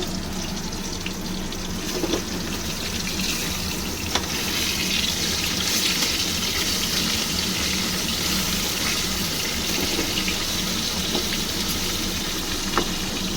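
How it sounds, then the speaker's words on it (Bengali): Koi fish fry in oil with a steady, loud, close hiss and bubbling that goes on without a break, broken by a few faint sharp ticks. "তো মাছগুলো আমি ভেজে নিই মাছটা ভাজা হচ্ছে"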